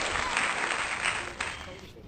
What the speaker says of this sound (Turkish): alkış Yasemin alkış